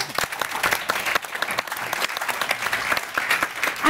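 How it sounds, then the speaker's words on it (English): An audience at a panel discussion breaks into applause, a continuous patter of many hands clapping at fairly close range, steady for about four seconds with slight swells. "I think this kind of needs an applaud"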